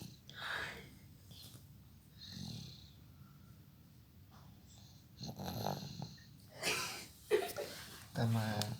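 A young boy makes several snoring and snorting sounds, likely imitating snoring on request, in uneven bursts between stretches of quiet, with voices talking nearby.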